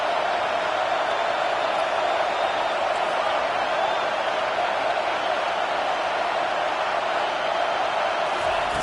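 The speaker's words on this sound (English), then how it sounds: "Here comes this home crowd as the defense tries to get off the field on 3rd down" A home crowd in a football video game roars as the defense tries to get off the field on third down. The dense, even wall of noise holds at a constant level throughout.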